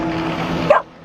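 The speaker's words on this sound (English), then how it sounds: "this is our dog Jetty" A dog barking once on a catamaran at anchor in the Virgin Islands, a single sharp bark over a steady low engine-like hum, fairly close and cut off abruptly.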